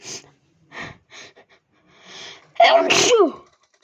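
A single loud, forceful sneeze near the mic, preceded by a few quiet breaths and sniffs.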